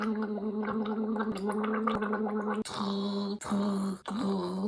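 A voice imitates gargling with a steady throaty rattle that holds for several seconds, broken by short pauses and resuming.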